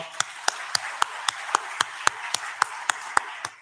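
A church congregation at a Sunday morning service claps to welcome a newly registered member: about thirteen sharp, evenly spaced claps that sound close and distinct, like a single steady rhythm rather than scattered applause.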